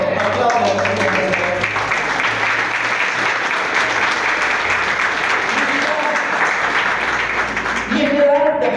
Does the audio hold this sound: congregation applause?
yes